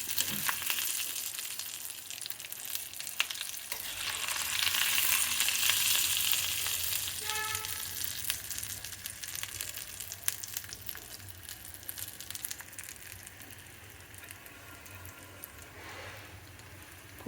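A tempering of spices and asafoetida sizzling in hot oil on a stove, a loud, steady frying hiss that swells and then slowly fades, heard alone without speech.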